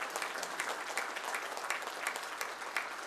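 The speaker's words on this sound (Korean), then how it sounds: "참가자들은 열렬한 축하의 박수를 터쳐 올렸습니다" Enthusiastic applause from participants at a treaty signing ceremony between the leaders of North Korea and Russia, a dense steady clapping sustained throughout, heard at moderate distance.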